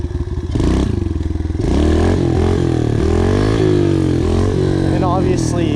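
Pit bike engine revving hard through a wheelie, a close, loud buzzy motor note rising and falling in pitch with throttle changes, plus some clatter, over someone talking.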